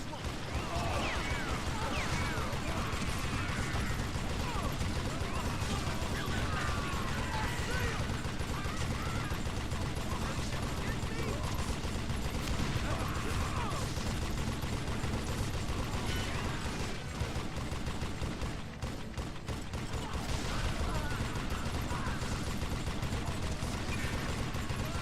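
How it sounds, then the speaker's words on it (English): Rapid automatic gunfire in the Western shooter Call of Juarez: Gunslinger, a dense, continuous clatter of mechanical rattling and bursts lasting throughout at steady loudness, with a brief dip near the end. "Oh, machine gun."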